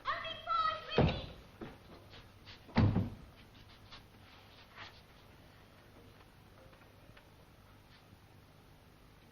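Doors being shut in a home in 1964: two solid thuds close together near the start, then quiet room tone with faint small movements.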